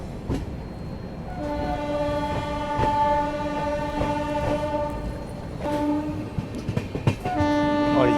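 A train on the Gorakhpur–Varanasi intercity route pulls into Indara Junction station at evening. Steady, strong harmonic horn or brake tones ring over a rumbling, clattering background, with sharp bursts near the end.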